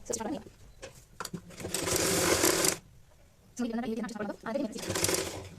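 Sewing machine stitching a baby's cloth nappy, running in two rapid whirring bursts separated by pauses, with someone talking between and around the stitching.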